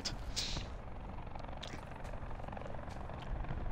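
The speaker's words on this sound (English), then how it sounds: "It's a helicopter." A helicopter in the Black Ops 4 video game makes a continuous, fairly quiet rotor drone with a broad rushing texture, holding steady throughout with no talk over it.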